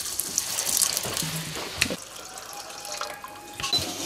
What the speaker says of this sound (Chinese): 然后我们再倒入适量的开水